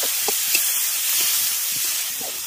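Spice paste sizzles in oil after ginger and garlic have been fried, a steady close hiss with a few soft stirring scrapes and no talking.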